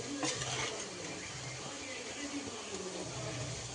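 Chicken frying with spice powders as it is stirred in a pan for a Tamil-style chicken curry: a soft, faint sizzle with light scraping close by, plus a few faint utensil clinks.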